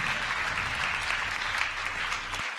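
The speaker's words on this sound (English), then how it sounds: "Give a round of applause for Teacher Gaming." Steady applause from a crowd at a startup pitch competition in Finland, dense and continuous clapping that cuts off abruptly near the end.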